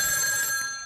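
A telephone bell rings with a bright, sustained metallic tone that fades slightly toward the end, alone with no voices.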